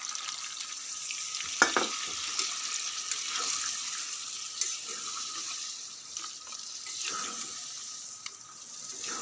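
Duck meat being stirred and sautéed in a pan, a soft steady sizzle with occasional utensil scrapes and knocks, fairly quiet and without speech.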